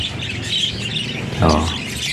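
A pet bird chirping indoors, a series of close, bright tweets with one louder squawk-like call near the end, heard alone without speech.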